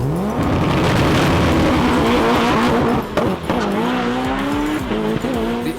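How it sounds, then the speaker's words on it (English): A 1000 horsepower Mitsubishi Evo 9 drag races a TTE-powered Volkswagen Golf 7R: loud high-revving engines climb through gear changes with rising whines, tire squeal and a brief dip in the roar midway. "The Autotech Golf got out the blocks first, but that Evo had more than enough power to catch and pass it."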